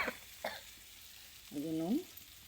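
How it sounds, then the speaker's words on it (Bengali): Spice paste for a crab curry fries and is stirred in a pan, a quiet steady sizzle with a couple of scraping stir strokes early and a brief voiced sound partway through. "মশলাটাকে ভালো করে কষিয়ে নেব।"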